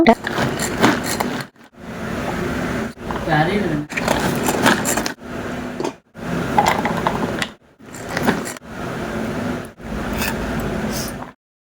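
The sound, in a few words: vegetables being chopped finely in a slicer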